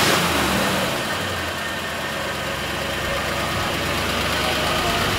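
Car engine running indoors at a Basingstoke comic-con, a loud continuous rumble that swells and holds like revving, steady and close for the whole stretch with chatter from the surrounding crowd mixed in.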